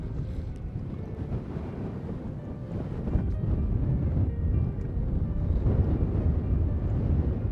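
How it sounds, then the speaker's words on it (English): Strong wind gusting over 40 miles an hour roars and buffets the microphone continuously, growing heavier partway through, with rushing water noise underneath, near a point in the Del Rio area. "the wind is gusting over 40 miles an hour and continuous winds 20 to 25"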